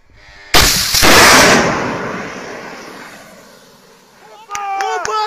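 Shooting at an Mi-24 helicopter: a sudden loud blast of gunfire breaks out close by, then a long rumbling decay, followed by shouted voices.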